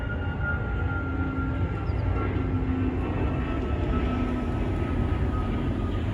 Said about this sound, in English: Let that sound of the plane just be part of it.